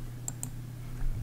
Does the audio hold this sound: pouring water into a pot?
no